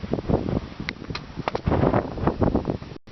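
Strong gusting wind on the summit trail of Mount Jefferson, a loud rough buffeting roar against the microphone that surges and drops in uneven bursts.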